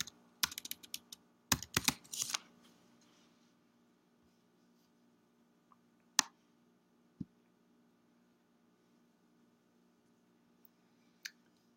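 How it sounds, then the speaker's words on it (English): Typing the sudo reboot command on a computer keyboard: a quick cluster of close key clicks at the start, then a few isolated taps spread through an otherwise quiet stretch. "I'm going to type in sudo reboot."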